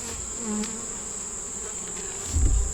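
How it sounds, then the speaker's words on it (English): Honey bees buzz in a steady, close, high drone at an open hive frame, with a few soft thumps and rustles near the end. "Okay, that's bees."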